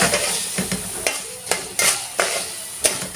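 Garlic or onion frying for lentil soup, browned until deep golden in a pan, a steady sizzle punctuated by regular scraping stirs about every half second, close and moderately loud, with no talk.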